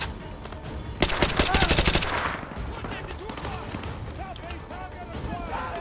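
Rapid automatic gunfire in Call of Duty: Modern Warfare 2 Remastered, a loud burst of about a second followed by scattered shots, with a voice talking over the game throughout.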